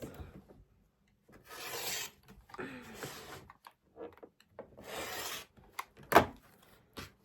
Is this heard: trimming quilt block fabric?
yes